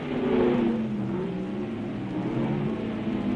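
A 1962 Formula One car at the French Grand Prix at Rouen, heading down to the hairpin, its engine wailing and shifting pitch as it revs, a steady mid-distance roar with no talk.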